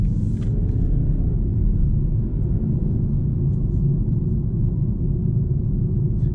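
Constant low road rumble inside a 2019 BMW 320d G20 saloon on run-flat tyres, a steady droning tyre and engine noise heard from the cabin with no talk over it.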